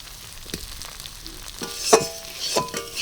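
Boiled potatoes, broken into pieces, being stir-fried with spices for a vegetarian chop with no onion or garlic, giving a soft sizzle with a few scraping stirs of a spatula against the pan and no talk.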